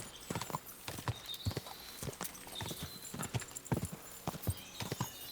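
Hooves of a war horse clip-clop in Kingdom Come: Deliverance 2, a steady quick rhythm of close, sharp hoof strikes on the ground that goes on throughout.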